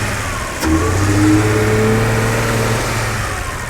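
A BMW 330i engine starts and idles steadily with a low, even hum and a faint whir, no voices.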